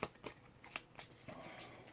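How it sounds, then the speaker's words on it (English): A deck of cards from the board game Black Sonata is shuffled up close, with a few quick riffling snaps followed by softer sliding, quiet and alone. "we're going to give it a bit of a shuffle"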